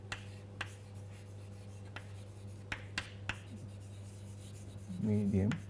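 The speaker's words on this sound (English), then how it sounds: "let me write this down." A lecturer writes on a board in a quiet classroom with a low hum, with short scratchy strokes and sharp taps of the writing tool, then a brief voice at the very end.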